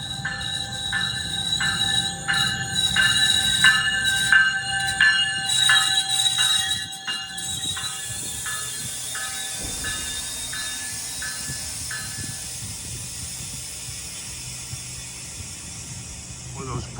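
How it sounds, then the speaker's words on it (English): A GO Transit train passes close by, wheels and cars rumbling while high metallic squeals and tonal whines ring out from the noisy brake lines, fading to a steadier hiss and roll. "those brake lines are noisy on the outside"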